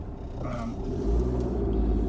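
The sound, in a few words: Rover Maestro car engine running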